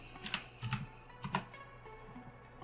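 Clicks of typing on a computer keyboard as a stock ticker is entered into a finance website search, a short burst of several quick keystrokes with pauses between, close and fairly quiet.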